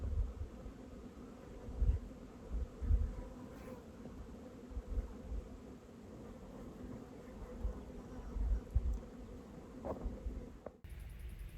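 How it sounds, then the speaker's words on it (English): Steady, loud buzzing of bees fills the air outdoors in Death Valley, a constant drone with occasional closer passes and low wind rumble. "in the air there's a constant loud buzzing of bees"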